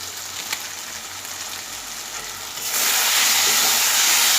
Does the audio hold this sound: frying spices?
yes